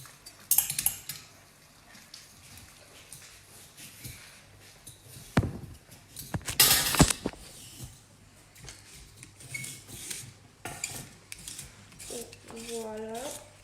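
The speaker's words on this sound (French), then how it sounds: "Quand on voit bien le fond de la casserole, on rajoute une petite touche de bouillon" A spoon scrapes and clinks against a saucepan while stirring a shrimp and green asparagus risotto, with irregular metallic taps and scraping over a busy kitchen background, faint voices and a hissing sizzle near the end.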